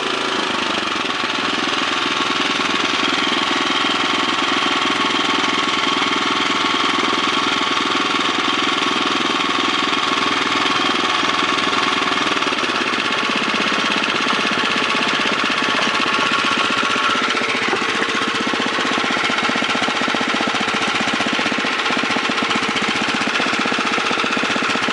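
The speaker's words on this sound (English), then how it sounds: "That's as slow as she goes, governed. Runs excellent." A Tecumseh 5.5 hp 195cc engine, model LH195SP, runs at slow governed idle on a slightly wobbly bench, with a loud, close, steady chugging drone and rapid even firing pulses that last throughout.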